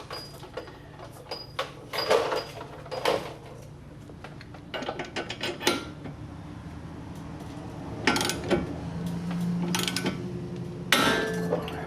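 Metallic clinks, ratcheting and tool knocks from work on a Dodge Challenger's front suspension during an Eibach install, as a part pops loose against a nut; sharp, close, irregular bursts scattered over a low steady garage hum, with no talk.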